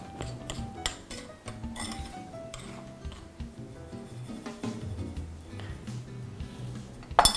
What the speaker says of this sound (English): I'm going to go ahead and toss it with a spoon.